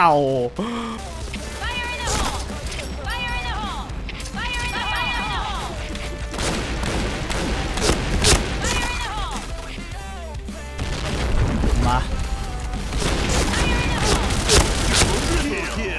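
Gunfire from the online shooter Point Blank, including shotgun blasts and G7 shots, forms a loud, dense run of rapid shots, bursts and impacts with in-game effects, while a player keeps commentating over it throughout.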